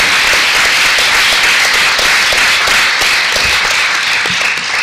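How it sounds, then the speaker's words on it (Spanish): A conference audience applauds steadily, a dense wash of many hands clapping at even loudness throughout, with no voices rising above it. "hay que aplaudirle a Javier."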